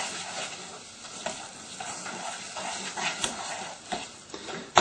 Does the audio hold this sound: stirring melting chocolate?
yes